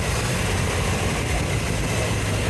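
A 1967 Corvette L71 with its 427 big-block V8 idles steadily nearby, a continuous low rumble with no voices over it.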